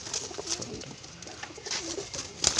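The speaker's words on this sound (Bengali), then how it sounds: "আজকে কিছু কবুতর ছাড়বো উড়ানোর জন্য" Pigeons being let out to fly, cooing softly through a faint outdoor background, with a few brief sharper sounds near the end.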